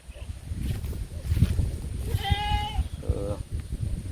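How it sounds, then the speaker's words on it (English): A goat, one of several pregnant goats on a small farm, bleats twice in quick succession, a wavering nasal cry followed by a shorter one, moderately close over a steady rumble of outdoor background noise. "And there is one more goat."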